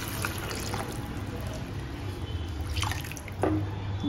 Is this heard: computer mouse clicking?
no